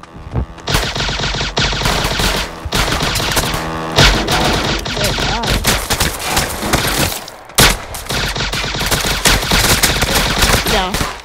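AK rifle gunfire in a video game: loud, rapid automatic bursts that repeat with short gaps between them, close and dominant across the whole stretch.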